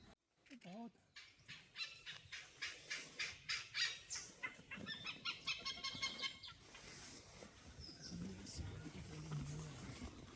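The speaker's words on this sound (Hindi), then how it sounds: "ग्रेट हॉर्नबिल की आवाज़ भी थी और पाइड हॉर्नबिल थी।" Great hornbill calls in the Surai forest, a series of loud rhythmic honking notes repeating at a steady pace, with people talking quietly nearby.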